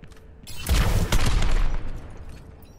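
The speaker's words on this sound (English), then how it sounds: "Fire your helix rockets at the targets." Helix rockets fired at training targets in Overwatch, a short loud burst of launches and explosions that swells and then fades into a lingering tail.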